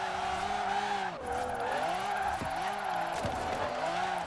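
A Dodge Viper drifts in Forza Horizon 4 with its tires spinning, the engine held high in the revs as a steady loud whine with wavering pitch, and tire squeal running continuously throughout.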